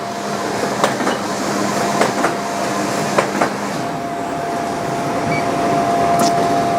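Continuous mechanical rumble and clatter from a Horizon SB-09 smart binding system, an industrial book binder with accumulator, stacker and three-knife trimmer, running steadily with periodic sharp clicks and knocks, no voices.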